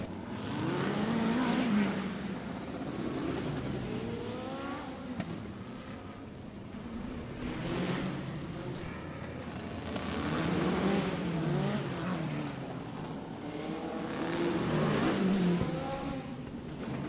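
Race cars in a heat race roar past in waves, engines rising and falling as they accelerate and pass, steady and fairly distant with no talk.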